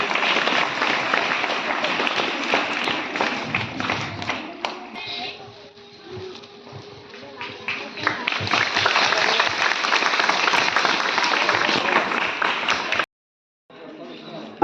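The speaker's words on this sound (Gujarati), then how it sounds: "જોરદાર તાળીઓથી વધાવીએ આપણે." An audience applauding at an Independence Day school event, a sustained wash of clapping that dips in the middle, swells again, then cuts off abruptly near the end before resuming faintly.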